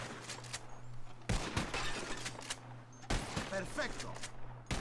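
Rapid rifle fire in the Red Dead Redemption 2 video game, two sharp bursts of shots spaced a couple of seconds apart over a low steady hum, with a voice talking in between.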